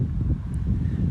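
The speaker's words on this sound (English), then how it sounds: "just because it's a bit windy" Steady wind buffets the microphone outdoors beside a semi-detached house, a continuous low rumbling roar with no other clear sounds.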